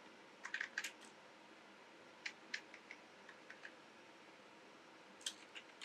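Someone types code on a computer keyboard in short bursts of quiet, close key clicks separated by pauses, with a faint room hiss between the strokes.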